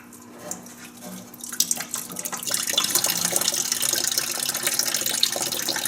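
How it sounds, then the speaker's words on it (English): Coolant pours from the radiator drain of a 1950 Buick Roadmaster, starting as a few drips and trickles before building into a steady, close splashing stream that continues to the end. "get it started here and get a little coolant flow going"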